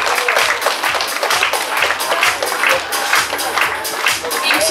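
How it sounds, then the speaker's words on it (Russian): Audience applauding a contestant at a bikini pageant, a dense, steady patter of many hands clapping in a hall, loud and continuous. "Аплодисменты, Леночка."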